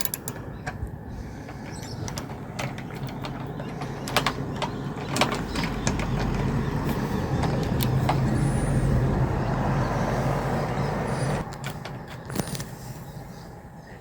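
A 10mm socket wrench works on a bolt on a Fiamma F80 awning's swing-arm bracket, with sharp separate metallic clicks and clunks over a low, murky background rumble.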